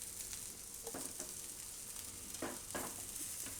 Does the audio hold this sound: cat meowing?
no